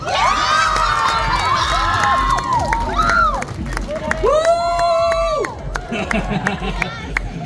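A large school assembly crowd of senior high students shouts and cheers loudly, with excited whoops and high rising calls over a dense roar of voices, close and lively throughout.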